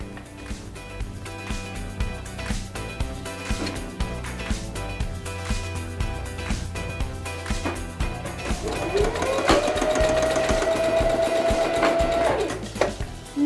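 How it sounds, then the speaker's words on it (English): A home sewing machine stitches a diagonal seam joining strips of bias binding, its motor whirring in steady bursts before settling into a longer, sustained run near the end. "I'll bring this piece to the machine and sew along that diagonal edge, joining these bias binding sections"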